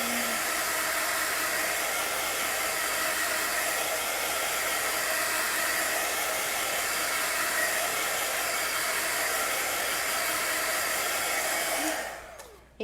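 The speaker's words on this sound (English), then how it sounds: "So just use a hairdryer." A hair dryer used to dry chalk paste blows in a steady, loud broadband roar for about twelve seconds, then switches off and winds down at the end.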